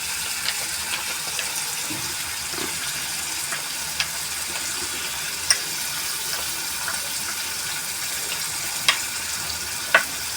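Gram flour mixture is stirred in a pan, a soft continuous wet swishing with a few faint scrapes and taps of a spoon spread across it, fairly quiet throughout.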